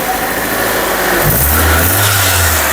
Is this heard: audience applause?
no